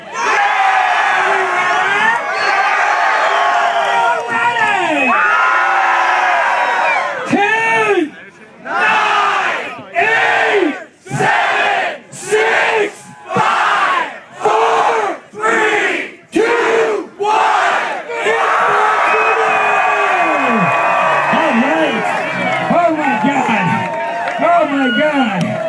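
A large outdoor Seattle Hempfest stage crowd cheers and whoops loudly, with sustained roaring, then a run of rhythmic, chant-like bursts before the cheering swells again.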